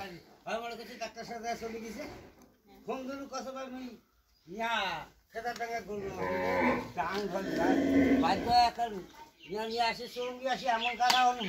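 A Friesian bull lows in a series of loud, drawn-out moos with brief pauses between them, while voices talk nearby.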